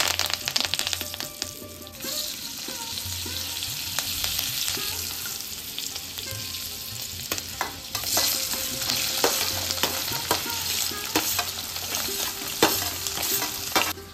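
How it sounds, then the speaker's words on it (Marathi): Potato pieces fry in hot oil in a kadhai with mustard seeds, asafoetida, turmeric and curry leaves, giving a loud, dense crackling sizzle throughout, punctuated by sharp clatters and scrapes of a spatula stirring, with no talking. "कढईमध्ये तेल घेऊन कढई गरम करायला ठेवली, नंतर त्यात मोहरी, हिंग, हळद, कढीपत्ता घातला आणि बटाट्याच्या फोडी घालून छान फ्राय"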